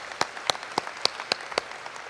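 Sparse applause for staff at a medical school white coat ceremony: about six distinct, separate handclaps spaced irregularly over two seconds, fairly quiet in a hushed room with no talk.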